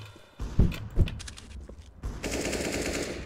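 Gunfire in a shooting video game: a few sharp, punchy shots early on, then a dense burst of rapid automatic fire to the end, loud and close.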